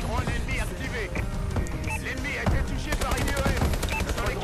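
Automatic gunfire from a team tactical shooter match, sustained rapid bursts with sharp impacts running throughout, mixed with game sounds and someone talking over it.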